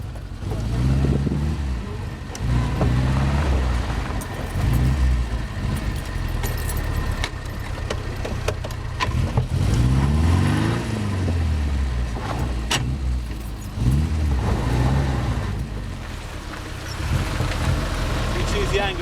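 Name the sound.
Frogeye Sprite car engine running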